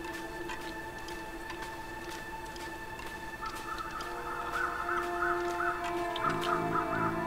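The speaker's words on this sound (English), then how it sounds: "Now there's crows over here" Crows cawing in the survival game The Long Dark at Mystery Lake, a few repeated harsh calls at moderate distance over a steady ambient wind bed, growing slightly louder toward the end.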